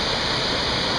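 Waterfall at Swallow Falls State Park, Maryland, producing a loud, dense, continuous rush of falling water heard up close with no other sounds.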